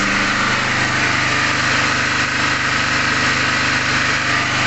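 Petrol generator with a pull-cord starter and a closed fuel tank, running steadily up close with a constant buzzing engine drone and no pauses or talk.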